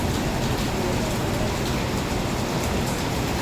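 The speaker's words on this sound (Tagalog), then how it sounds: "Ayan, ang lakas ng ulan." Heavy rain pours down near a mall in a steady, dense hiss that fills the whole stretch with constant loud noise and no pauses.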